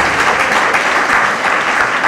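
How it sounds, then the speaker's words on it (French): An audience claps warmly and continuously at a book-signing event, a dense, loud wash of applause filling the whole moment with no pauses. "je demande de l'applaudir très fort"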